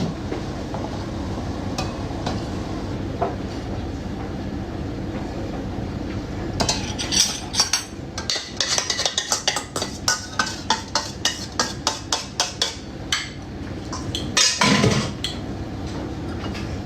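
Pots, including a three-litre saucepan, and cutlery clatter in a rapid run of sharp metallic knocks, fairly close, with a final louder clang of pans near the end.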